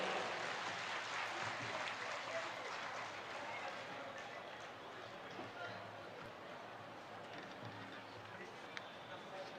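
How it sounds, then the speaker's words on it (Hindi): A public event audience applauds to welcome Bihar Chief Minister Nitish Kumar at a social reform campaign gathering; a steady, fairly faint wash of many hands clapping continues throughout, with a crowd murmur and some voices beneath it. "अनेक अनेक तालियों से पुनः माननीय मुख्यमंत्री जी का स्वागत करें"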